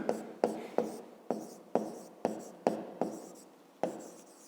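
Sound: writing

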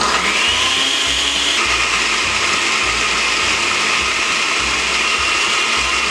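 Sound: blender blending tomato sauce

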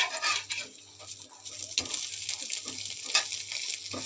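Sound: egg frying in a pan

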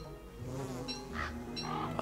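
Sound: bee buzzing in the video game Don't Starve

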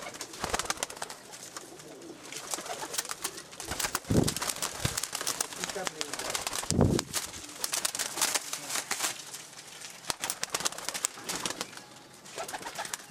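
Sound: Zeera breed pigeons cooing

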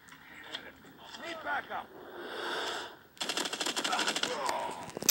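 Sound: gunfire in Call of Duty video game

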